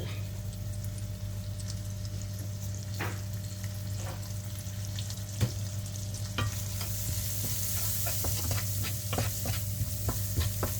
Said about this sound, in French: vous laissez frire